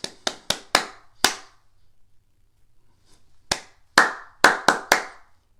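Hand claps in a rhythmic demonstration: a quick group of five sharp claps, a pause of silence, then another run of five or six crisp claps, close and clear with no talking.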